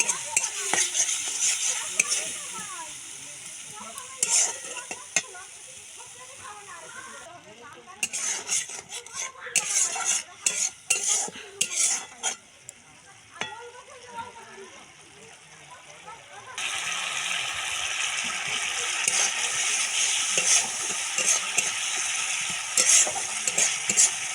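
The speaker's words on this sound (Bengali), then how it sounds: "ভালো করে মশলাটাকে কষাতে হবে" Spice paste stir-fried in a pan for a fish curry with ground cumin, loud sizzling broken by repeated scraping and clinking stirs, fading briefly in the middle before a strong steady sizzle returns; talking is heard in places.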